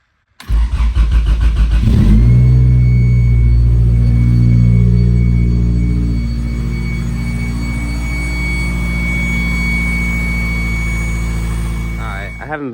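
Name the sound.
1990 Acura Integra DA9 engine starting for the first time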